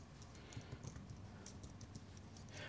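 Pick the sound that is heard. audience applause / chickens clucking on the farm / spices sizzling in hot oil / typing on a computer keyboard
typing on a computer keyboard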